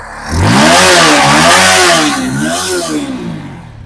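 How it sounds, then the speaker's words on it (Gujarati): A TVS Apache RTR 200 motorcycle engine, with a slightly low battery, revs up loudly, its pitch rising and falling in a couple of throttle swells before settling to a steady idle. "એન્જિનનો અવાજ પહેલા તમને સંભળાવી દઉં."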